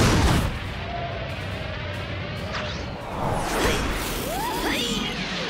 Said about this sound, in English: Defense missile activated.